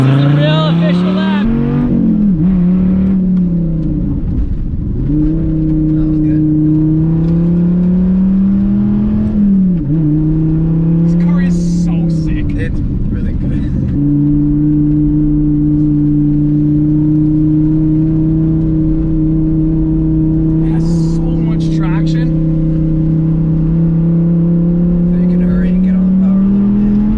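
A car on a race track drives a timed lap, its engine droning loudly and steadily close by, pitch rising and dipping through gear changes, with people talking over it.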